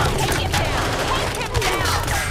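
Tranquilizer darts firing in the Marvel Ultimate Alliance 2 video game: a dense, continuous volley of shots crackles in quick succession over a noisy battle background.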